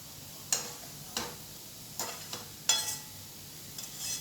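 Papaya being stirred as it fries in a pan on low heat: a few scattered scraping clicks of the spatula, each a short bright tick, over a faint steady sizzle with no talking.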